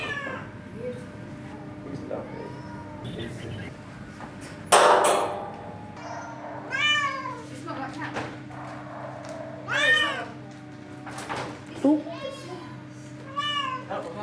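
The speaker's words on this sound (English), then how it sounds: "This cat here, Bengal, has just come in from Canada." A Bengal cat at an airport animal reception centre meows several times, with short, clear, rising calls spaced a few seconds apart, close by, over a low mechanical hum, with a metallic clank and someone talking in between.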